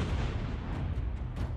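A deep, rumbling explosion blast from a G-Shock GST-B300SD watch test, loud and sustained for the whole moment, with a heavy low boom and crackling debris on top.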